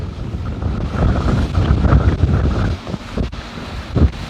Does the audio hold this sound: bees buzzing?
no